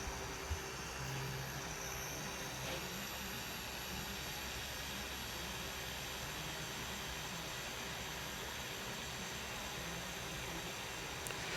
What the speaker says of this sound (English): The Flex XFE 712 3-inch polisher is what we're using today, and we have it on mid-speed.